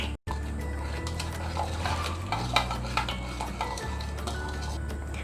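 Lemon juice marinade with chilli being mixed in a bowl, spoon scraping and clinking against the sides in quick uneven strokes, close up, with a low steady background hum and no speech.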